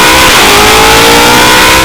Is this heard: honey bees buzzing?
no